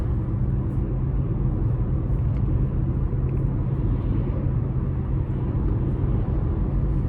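Cabin of a 2026 Chevy Trax 1LS Convenience small SUV with a 1.2T engine on the move, a steady low road and engine rumble with tyre noise and no talk.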